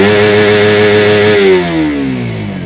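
Suzuki GSX-R150 motorcycle engine held at its rev limiter around 13,000 rpm, a loud, close, buzzing high-pitched drone that holds steady and then drops away as the throttle is released.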